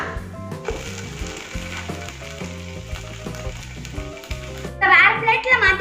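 A pancake sizzles steadily in a hot pan after being turned over, close and continuous, with a brief clatter of utensils near the end and a voice in the background.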